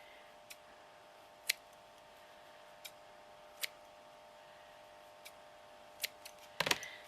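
A few faint, sharp snips from scissors cutting through folded fabric strips, spaced irregularly with a quick cluster of cuts near the end, in an otherwise quiet room.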